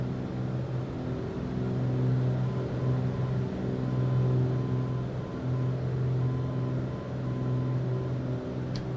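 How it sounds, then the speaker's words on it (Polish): Aircraft engines in a flight simulator game on an ILS approach to runway 31 at Szczecin (EPSC) make a steady, loud low drone with humming tones, continuous and unbroken with no voices throughout. "Mamy silniki i odgłosy symulatora."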